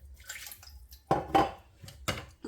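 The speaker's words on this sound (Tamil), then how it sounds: "So we're adding a little bit of water into the mixer so that we can get every bit of the spices in" Water is poured into a mixer cup holding ground spices, a few short splashing pours and rattling clinks in quick bursts, close and fairly quiet.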